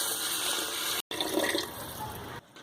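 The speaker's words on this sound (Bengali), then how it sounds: "চাল ডালগুলো ভালো করে মিশিয়ে নিয়ে এবার এর মধ্যে 2 লিটার জল আমি দিয়ে দেব" Two litres of water poured into rice and lentils for khichuri, a close, steady gush with one brief break before it tapers off.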